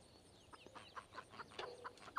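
Old English bantam chickens on a free-range farm give soft, rhythmic clucks, a run of short repeated calls heard close but quiet.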